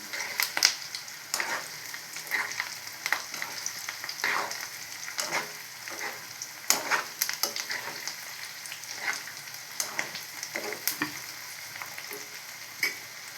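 Colocasia roast fries on a low flame while a spatula stirs it, producing a gentle continuous sizzle punctuated by frequent close scrapes and taps against the pan in an irregular rhythm, without speech.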